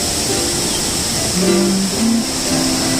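A river rushes steadily near Kadavupuzha waterfall in Kottayam, a broad, even wash of flowing water heard close and alone, with faint tonal sounds drifting over it.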